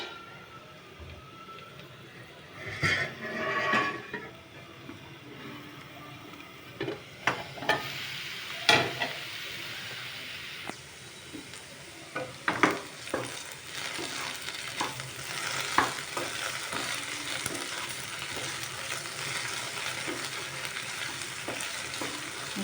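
Ridge gourd (beerakaya) pieces frying in a pan until light brown, a continuous crackling sizzle with repeated scraping and clattering of a spatula as they are stirred, no voices.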